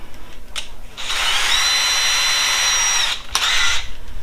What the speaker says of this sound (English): what I'm going to do is take my 1/8 of an inch drill bit